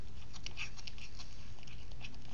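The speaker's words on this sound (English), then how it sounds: "He's just chewing on it." A cat chewing and biting through its food up close, with quiet, irregular crunches and small wet clicks in a calm room.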